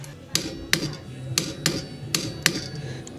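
A torque wrench set to 55 Nm tightens a CVT drive part on a Yamaha Nmax, giving six sharp metallic clicks spaced about half a second apart over a low background hum, close and without talk.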